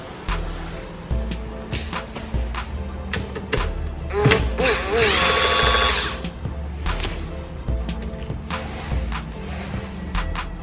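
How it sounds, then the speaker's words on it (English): A power screwdriver whirs while Phillips screws are removed from the lower headlight trim of a 1995 Mercedes-Benz SL600, with a rising motor whine mid-way among clicks and handling knocks nearby. "Remove this Phillips screw here and this Phillips screw here."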